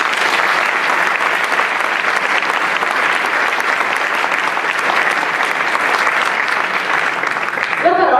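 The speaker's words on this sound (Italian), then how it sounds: "Facciamo un applauso." Audience applause at a Fermare il Declino political gathering in Padova: dense, sustained clapping from a sizeable crowd that holds steady for about eight seconds and breaks off abruptly at the end.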